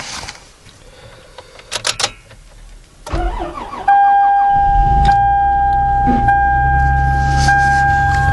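A 2005 Toyota Sienna minivan cold-starts at -12 degrees: a few clicks, then the starter cranks for about a second before the engine catches and settles into a loud, steady high idle close by.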